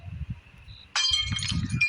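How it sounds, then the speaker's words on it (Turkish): In a video game, a light breaks with a sudden bright glass shatter and tinkling clinks about halfway through, following low muffled rumbles and a faint tone. "Işık kırıldı."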